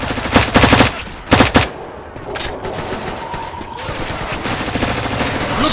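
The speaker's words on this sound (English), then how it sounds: "Stop shooting me!" Rapid bursts of automatic gunfire from the video game Diescraper Redux, two loud clustered volleys early on, then a quieter stretch of background game noise.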